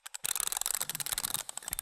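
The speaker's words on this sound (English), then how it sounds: "we also have all the way you can wind them up. That's what you're hearing here." Rapid mechanical clicking and ratcheting, like several wind-up timers being twisted, dense and close with no voices.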